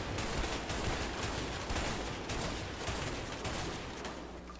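Sustained gunfire in a Mexican shootout in the A Way Out video game, dense and continuous bursts of shots filling the whole stretch at steady loudness with no talk.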